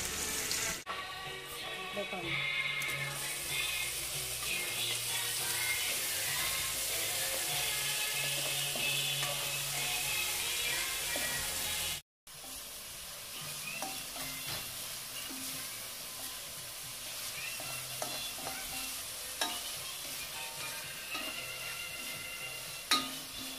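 Garlic and onion sauté in a pan for carbonara, a steady close sizzle with stirring scrapes running throughout, broken by a brief gap midway, with no talk over it.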